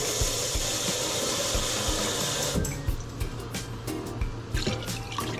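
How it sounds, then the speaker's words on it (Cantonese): Water runs steadily into a soup pot, about four litres, for a few seconds, then stops, leaving scattered drips and small splashes nearby. "所以我會落4公升水啦"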